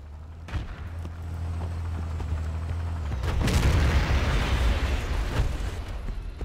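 In Battlefield 2, a tank is destroyed with a heavy explosion: a low engine rumble cuts off into a broad roaring blast that lingers and crackles with scattered pops, loud and close.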